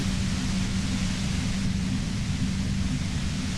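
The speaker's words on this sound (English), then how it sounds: "You hear through the white noise. It's especially bad suddenly." A harsh, steady white noise effect from the video game Disco Elysium fills the space, loud and unbroken, with a low hum layered beneath the static.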